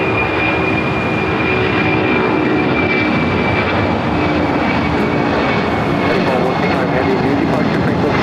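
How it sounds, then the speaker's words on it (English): An ABX airplane takes off from a runway at Los Angeles LAX airport, a loud continuous jet engine roar sustained throughout, with a faint voice audible beneath it. "that ABX there, heading to Phoenix now, taking off."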